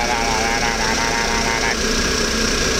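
A bus engine drones loudly and continuously, a dense throbbing idle with a steady mechanical hum that shifts slightly partway through.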